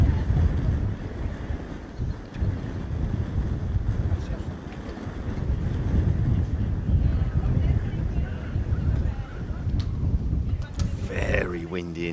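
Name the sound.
wind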